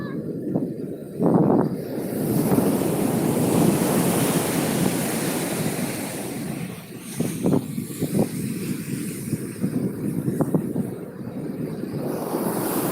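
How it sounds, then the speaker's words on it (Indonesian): Ocean waves roll onto a beach at Pantai Mbah Drajid in Yosowilangun, a broad continuous surf roar with wind buffeting the microphone and a few brief sharper splashes. "Ya, Bah, ombaknya bergulung-gulung, Bah."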